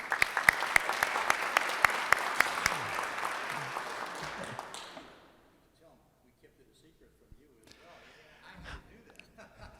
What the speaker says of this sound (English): I would like to give another round of applause to the selection committee